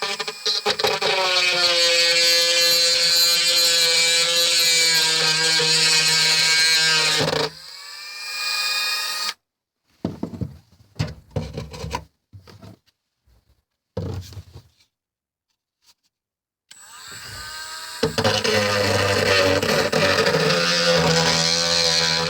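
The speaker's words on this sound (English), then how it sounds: "Now I'm just gonna drill right here, run the cables from the solar panel," A power drill bores a hole to run cables from a 100-watt flexible solar panel, whining loudly and steadily for several seconds, then stopping for quiet handling noises before a second long, loud burst of drilling.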